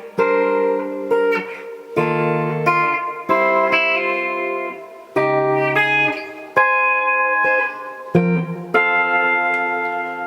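Electric guitar plays a melodic solo line with sustained, slightly effected notes and short phrases, loud and close, no voices.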